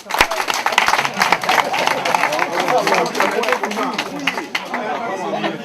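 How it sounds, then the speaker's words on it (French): An audience at a political meeting in Paris claps and chatters, sharp hand claps scattered over a steady babble of voices and murmuring that continues throughout. "Il faut applaudir ça."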